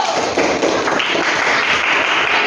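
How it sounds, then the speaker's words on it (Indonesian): Classroom students applaud their debate team at the end of a quiz round, a steady crackle of clapping hands that holds at an even level throughout, with no talking. "beri tepuk tangan dulu"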